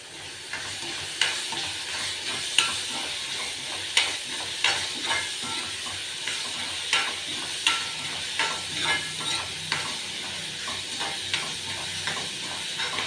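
Garlic and asafoetida fry in hot oil with a steady sizzle and hiss, while a spoon scrapes and stirs the pan in regular clinking strokes, close by and without talk.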